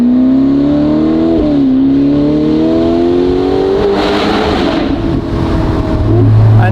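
A Novitec-tuned Ferrari Portofino M with 688 hp revs hard through a loud aftermarket exhaust, its rising engine note climbing steadily with a brief dip and shift before building again, close and dominant with no talking.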